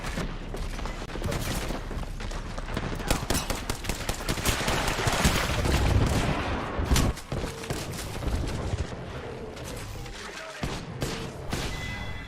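Dense, continuous automatic gunfire in a battle royale shooter match of Apex Legends, loud overlapping bursts from several weapons with booms and thuds, nearly unbroken for the whole stretch.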